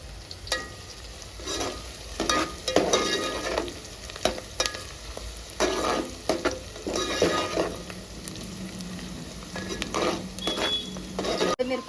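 Chillies frying in hot oil for a goat head curry, a steady crackling sizzle broken by repeated scraping and stirring clatters in the pan, close and continuous without talk.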